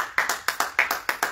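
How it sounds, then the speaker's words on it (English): Congregation clapping hands together in praise during a church service, eight sharp claps in a steady rhythm, fairly close and moderately loud, with no talking. "Give the Lord a hand clap of praise now."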